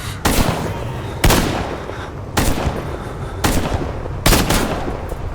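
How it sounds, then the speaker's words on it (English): Video game gunfire in Stalker GAMMA: five loud, sharp bursts of shots about a second apart, each trailing into a rumbling decay, close and unbroken by speech. "They were shooting at me."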